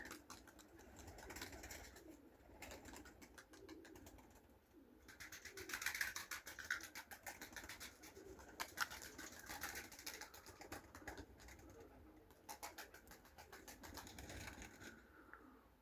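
Pigeons coo steadily over a busy outdoor background, soft repeated throaty calls overlapping one another, with occasional faint wing flutters, no talking.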